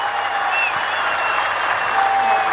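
Rugby crowd at a Fiji versus Japan Pacific Cup match in 2011, a broad, steady roar of cheering and clapping from a large stadium audience, continuous and fairly loud throughout.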